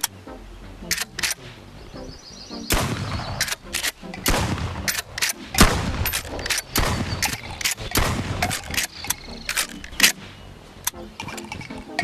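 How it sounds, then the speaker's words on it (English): Shotgun fired in a movie-style demonstration, many sharp blasts in irregular quick succession over a low rumble, some loud and close, with occasional voices in the background. "Now I'm gonna start shooting at you."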